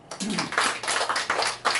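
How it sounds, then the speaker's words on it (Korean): A church congregation claps hands together in a quick, fairly even rhythm, moderately close and steady for a couple of seconds with no talking. "박수"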